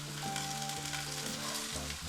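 Potato, carrot, green chili and cabbage frying in a pan, a continuous even sizzle with a faint low hum beneath, steady and close throughout.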